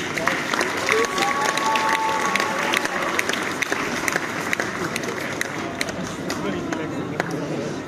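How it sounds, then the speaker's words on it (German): An audience at a cosplay catwalk event applauds steadily as the jury is called onto the stage, dense clapping running throughout with some cheering and a voice over the crowd. "Einen Applaus bitte."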